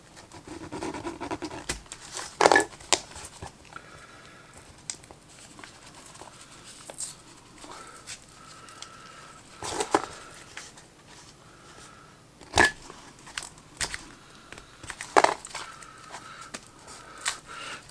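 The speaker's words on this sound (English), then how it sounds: "we will actually go ahead and we will unwrap just one of these capacitors" Cutting into and unwrapping an old waxed-paper capacitor from a metal-rectifier battery eliminator, giving close, irregular crinkling, tearing and scraping with a few sharp snaps, steady rustling throughout.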